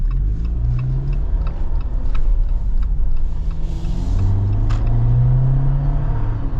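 Lifted 2024 Jeep Wrangler Rubicon with its 2.0 turbo engine on 37-inch tires accelerating, a loud low rumble whose pitch climbs steadily, with light ticking and clicks over it and no talk.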